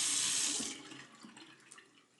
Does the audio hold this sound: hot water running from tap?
yes